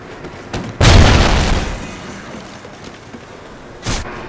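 Launcher rounds exploding in Call of Duty: Ghosts gun game: a loud, close boom decays over about a second after a faint earlier pop, and a second, weaker blast follows a few seconds later.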